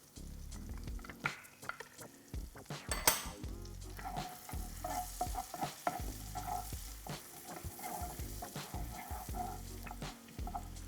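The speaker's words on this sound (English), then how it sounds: "I'm going to saute this for about a minute." Chopped onions sautéing in melted butter in a pan for Nigerian chicken pie filling: constant close sizzling and crackling with frequent scraping stir and clatter sounds, no voices.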